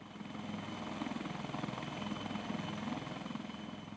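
An Indian Army Aviation HAL Dhruv helicopter flies nearby, with a loud, steady rotor thump and engine whine running throughout.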